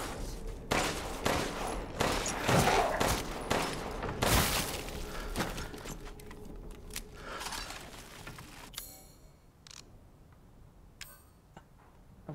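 Rapid gunfire in Resident Evil Village, a volley of sharp, loud shots clustered in the first half with metallic clinks, then quieter sporadic clatter and a final crack.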